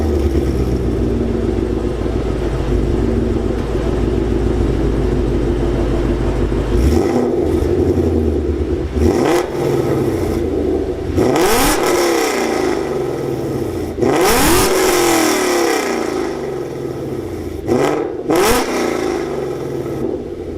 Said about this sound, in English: I'm gonna pull over for you guys real quick and give you a few revs.